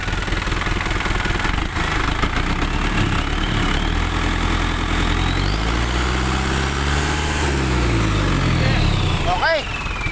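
A turbo diesel 4HE1 engine in a 6-speed truck idles steadily with a deep, rough rumble, briefly rising and falling in pitch, while someone talks over it near the end.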